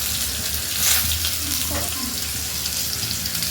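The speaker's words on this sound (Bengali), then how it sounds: "আলুটাকে ভালো করে লাল লাল করে ভেজে নেব" Potato pieces frying in oil with a dried chilli in a pan give a steady close sizzle and hiss, with light stirring scrapes and no voices.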